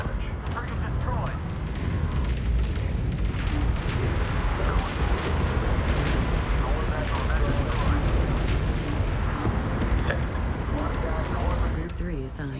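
A frigate is destroyed in Homeworld 3, and dense rumbling explosions and booming space-battle fire roll on continuously and loudly under radio voices and a talking player.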